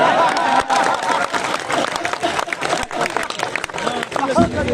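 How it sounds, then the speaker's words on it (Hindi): Audience at a kavi sammelan poetry gathering at Mumukshu Ashram, Shahjahanpur, clapping in a loud dense burst that carries on steadily, with crowd murmur and voices mixed in. "तारीफ करो ताली बजा के।"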